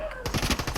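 Rapid automatic gunfire in a video game, a fast run of sharp, loud shots following a brief lull.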